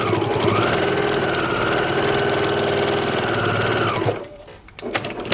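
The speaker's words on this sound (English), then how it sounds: "the next step is going to be to stitch down each of these sections so that we can flip the entire thing over" A sewing machine stitches down the facing sections of a quilt in one loud, continuous close-up whir for about four seconds, then stops, leaving quiet handling noises.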